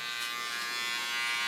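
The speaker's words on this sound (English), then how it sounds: "With my beautiful zero shaver, get rid of the small hair on the side" A zero electric shaver buzzes steadily and close while trimming fine hair along the neckline during a salon restyle of a dry bob, a constant high whine with no talking.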